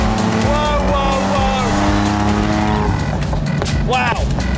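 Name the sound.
TVR Tamora cabriolet engine roaring while driving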